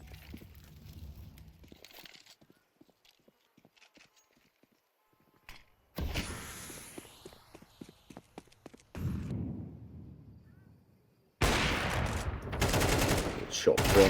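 Bursts of video game gunfire in a competitive team shooter match, broken into separate loud volleys with quieter gaps between, and the heaviest, densest stretch of shots lands near the end.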